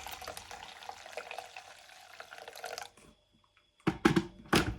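Hot water poured into a bowl with washing-up liquid and whisked into froth with a Scrub Mummy sponge, a steady splashing rush that stops, then returns in short bursts of wet squelching.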